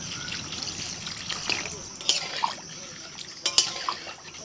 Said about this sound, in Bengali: এবার জল দিচ্ছি আলুটা সিদ্ধ হওয়ার জন্য।